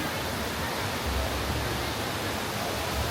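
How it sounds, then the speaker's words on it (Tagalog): A waterfall near an old hydroelectric plant built in 1925 in Sapa, Vietnam, roars as a dense, steady broadband rush, loud and unbroken throughout, with no speech over it. "May waterfall sa likod ko"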